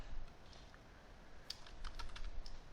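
Keys on a computer keyboard are tapped in a quick, uneven run of soft clicks, faint and close, with a quiet hum underneath and no voices.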